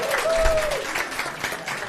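Audience applause at a live presentation on everyday generative AI literacy, steady clapping from a crowd filling the whole moment, moderately loud with a brief whistle over it.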